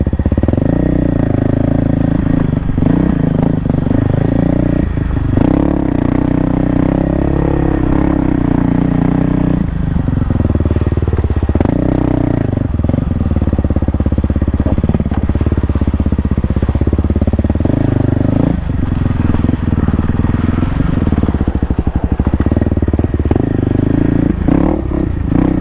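A 2024 Kawasaki KLX300R dirt bike labours through a slow, technical hard enduro loop with sharp ravines; the engine drones loudly and continuously up close, surging and easing with throttle, with steady clatter and rattling.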